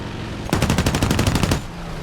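An F2A-3 fighter's machine guns fire in War Thunder, one loud, rapid, evenly paced burst of about a dozen shots lasting roughly a second over a low engine drone.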